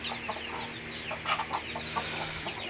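A large Brahma rooster clucks in repeated short, close bursts over a low steady background hum, with no one speaking.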